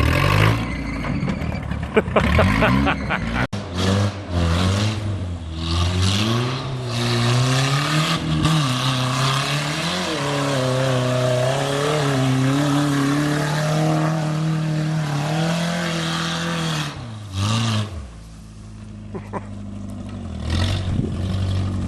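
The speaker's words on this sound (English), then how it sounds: "that feel good to do a few hot laps in your truck on the dirt bike track?" A pickup truck runs hot laps on a dirt bike track, its engine revving and surging continuously at close range, rising and falling with throttle, with voices talking over the roar.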